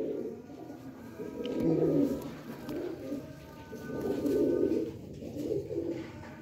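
Mian Nazir bloodline pigeons coo close by in deep, throaty swells, rising and falling in three or four rolling phrases with no talk over them.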